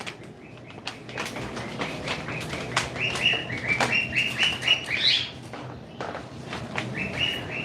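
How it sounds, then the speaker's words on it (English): Outdoor birds chirping and calling in short bursts, moderately near, with a few flapping wing sounds, sharp knocks and household clatter around them. "Do you hear the birds singing?"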